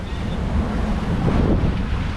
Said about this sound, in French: On a un bon vent